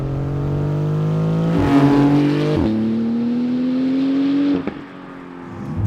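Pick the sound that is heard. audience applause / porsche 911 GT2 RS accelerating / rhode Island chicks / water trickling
porsche 911 GT2 RS accelerating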